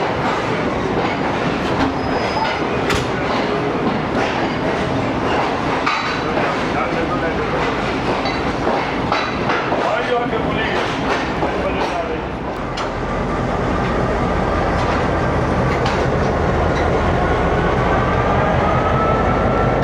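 Pak Business Express passenger train running on rails between Lahore and Karachi, a loud continuous roar with rhythmic clickety-clack of wheels, brief squeals, and a dip midway before the rumble resumes close by.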